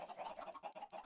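A Minecraft chicken in a Mindcrack modpack world gives a quick run of soft, close clucks in a brief rhythmic burst.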